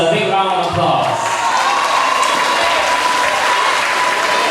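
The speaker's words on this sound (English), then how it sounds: "let's give our form teachers a big round of applause." Applause for form teachers fills a graduation day ceremony, steady dense clapping from a large crowd throughout with a few voices and cheers mixed in near the start.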